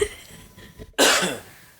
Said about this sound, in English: What's up with the cough?